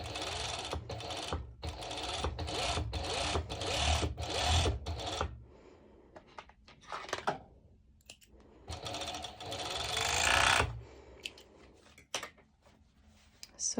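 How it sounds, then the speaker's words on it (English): A serger overlocks elastic onto a cut-out swimsuit in loud close bursts of rapid stitching, stopping and restarting several times with quieter handling and fabric rustles in between. "I serge and add elastic in the same time"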